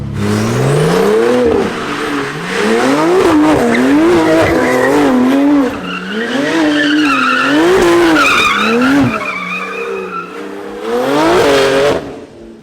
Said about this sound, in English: I need to do one donut in it before I say goodbye to it